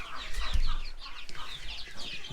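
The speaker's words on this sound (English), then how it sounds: "But there's chickens in here." Several chickens cluck and chatter close by, a busy overlapping stream of short calls.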